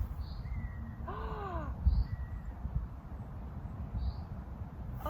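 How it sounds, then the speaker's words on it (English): A red kite calls overhead in a woodland clearing, giving a few thin, whistling, descending cries, one clustered burst in the middle, faint against a low rumble of wind. "Oh, that's a red kite."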